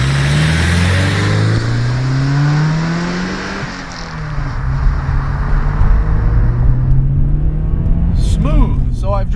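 A stock 1988 Porsche 944 Turbo S engine pulls steadily while driving, a loud continuous low drone that rises in pitch through the gears, dips briefly mid-way, then builds again, with a short voice near the end.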